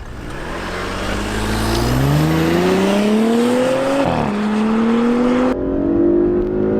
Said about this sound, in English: I'm going to brake torque it a little bit and just let this 8-speed automatic transmission do its job.